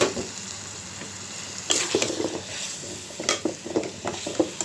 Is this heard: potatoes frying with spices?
yes